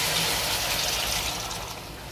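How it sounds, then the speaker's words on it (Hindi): Full fat milk poured into biryani masala that has been frying in a pot, a steady liquid gushing and hissing that stays close and even, then eases off slightly near the end. "इसमें अभी डालेंगे जी मिल्क डालेंगे"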